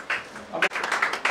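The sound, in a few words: congregation applauding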